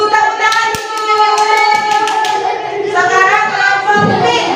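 A group of children in a classroom clap their hands in rhythm together while their voices chant or sing along, loud and close, with a few sharper individual claps standing out.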